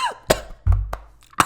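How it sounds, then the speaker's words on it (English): A person coughs in several sharp, close bursts, with a short throaty rumble between the first and second coughs and a final loud cough at the end, with no talking. "What am I coughing for?"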